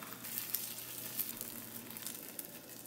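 Tofu coated in starch pan-fries in oil with a continuous soft sizzle and scattered crackling pops, close but not loud, with no talking.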